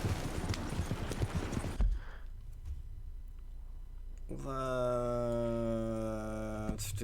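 Horse hooves clip-clop in Red Dead Redemption 2, a rapid rhythmic clatter at first, then quieter, with a voice and a droning tone over the later part.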